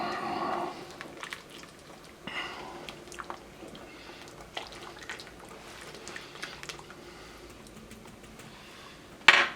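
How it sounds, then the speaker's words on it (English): Cream of mushroom soup is stirred in a pot with soft, wet squishing and faint utensil scrapes over a steady background, ending in a sharper clink. "Stir that up."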